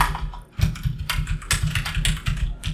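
Fast, steady typing on a computer keyboard while entering a file name in MS Word, close and clear, with dense clicking keystrokes running throughout and a brief pause near the start.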